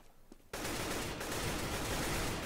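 Rapid automatic gunfire in the Counter-Strike GO match on Dust 2 erupts after a brief quiet moment and continues loud and dense, a sustained burst of shots without pause.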